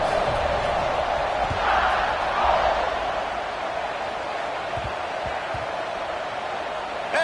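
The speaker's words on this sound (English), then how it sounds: "this crowd is buzzing after that last score" A college football stadium crowd at Ohio State vs Alabama buzzes with a steady, dense roar of distant cheering and chatter that swells slightly and then holds even throughout.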